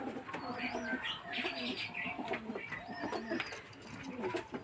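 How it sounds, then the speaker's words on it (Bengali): Pigeons coo softly in repeated low, throaty phrases, with a few faint chirps mixed in against a light background hum. "তা বন্ধুরা পায়রা একটা পছন্দের ব্যাপার আছে"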